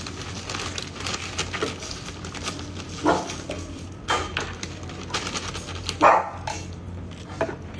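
A dog barks in scattered single woofs at a moderate distance, a few sharper barks standing out over a low background hum.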